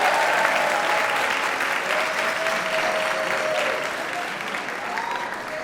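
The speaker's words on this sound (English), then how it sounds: "let's give that first group another round of applause." Sustained, dense applause from a large audience at an educational support personnel award ceremony fills the hall, honoring the first group of finalists. It holds steady and loud throughout, easing only slightly near the end.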